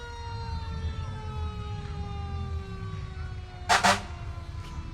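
At a Christmas parade in downtown Morganton, fire trucks, including a 2022 Rosenbauer pumper and a 1992 3,000-gallon tanker, wail with a slowly falling siren, then a loud double blast of air horn cuts in near the end.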